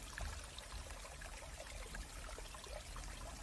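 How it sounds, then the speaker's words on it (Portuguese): Water flows steadily in a small stream through a grassy meadow, a continuous soft rushing and trickling with no breaks, faint and even throughout. "Escute o barulho das águas"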